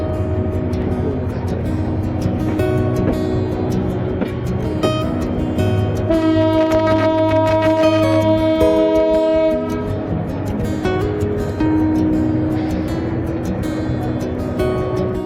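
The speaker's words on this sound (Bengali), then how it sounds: "পাঁচ মিনিটের যাত্রাবিরতির শেষে 30 মিনিট বিলম্ব নিয়ে এই মুহূর্তে আমাদের ট্রেন ঢাকার বিমানবন্দর রেলওয়ে স্টেশন ছেড়ে যাচ্ছে।" Kishoreganj Express intercity train pulling out of Dhaka Airport railway station, loud steady rumble of wheels and carriages with a long sustained horn blast in the middle, heard from on board.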